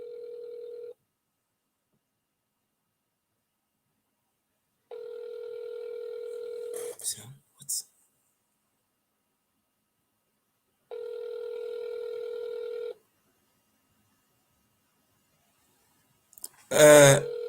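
A telephone ringback tone sounds during a call, with steady electronic beeps repeating in long bursts separated by silence. Brief voices and rustling break in between the rings and at the end.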